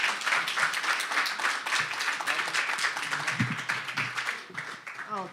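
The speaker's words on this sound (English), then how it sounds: "Let's give him a big round of applause and welcome him up" Audience applause after a speaker is introduced at a talks event, dense clapping that stays fairly steady for about five seconds with a few low thumps partway through.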